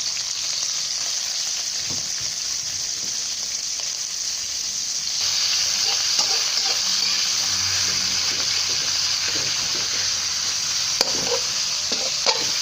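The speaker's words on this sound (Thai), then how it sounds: "ผัดกระเทียมให้หอมครับ นี่ตามด้วยแหนม" Garlic and naem, a Thai fermented pork, stir-fried in a pan: a continuous loud sizzle with scraping and stirring clatter, growing louder partway through, and no voices.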